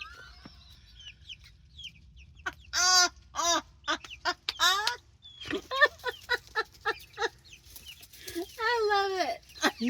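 Backyard chickens cluck and squawk near the coop, a run of close, repeated calls with a friendly, sociable bird in the mix, some calls rising into longer cackles, over faint outdoor background.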